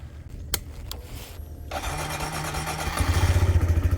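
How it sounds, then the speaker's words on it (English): A Kawasaki Z125 minibike loaded with luggage starts up after a few clicks and settles into a close, pulsing idle that grows louder and more rhythmic toward the end. "I'm going to take it for a test drive to see how all the weight handles."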